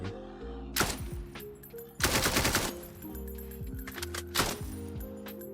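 AK rifle fire in a sandbox video game, three separate bursts of rapid automatic shots crack out loud and close, with a steady low game hum running between them.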